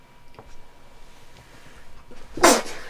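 A single sharp sneeze bursts out near the end after a few seconds of quiet room noise.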